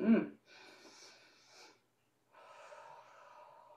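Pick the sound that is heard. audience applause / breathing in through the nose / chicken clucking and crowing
breathing in through the nose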